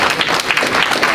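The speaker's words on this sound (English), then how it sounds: "Y'all can clap there." Audience applauding at a public meeting held in a church, a steady, dense wash of clapping that fills the whole moment with no voices over it.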